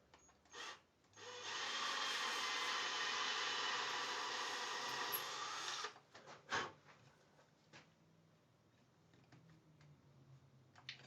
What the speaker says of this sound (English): I start drilling into the neck until it cuts through